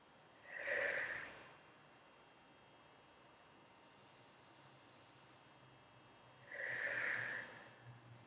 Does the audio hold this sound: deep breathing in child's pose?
yes